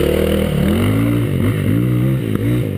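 A motorcycle engine revving hard during a wheelie, a loud, close, continuous roar whose pitch rises and dips several times.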